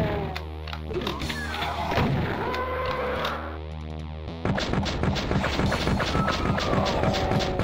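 A chaingunner enemy in Doom 2 fires rapid, repeating gunshot bursts, loud and dense, with a short lull before the rattling volley resumes.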